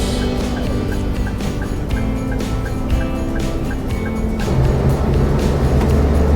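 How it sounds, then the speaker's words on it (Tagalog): Steady road traffic and engine rumble from a car driving on a highway in 38-degree heat, with a broad continuous roar and faint repeating ticks throughout, growing slightly louder toward the end. "Tulad ng dati, marami tayong kasabay uli ng mga sasakyan mga guys."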